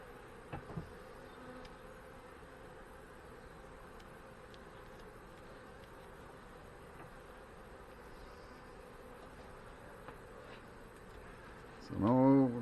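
Honey bees hum in a steady low drone while a hive is opened and checked for swarm cells, close and continuous, with a brief knock early on and a voice rising at the end.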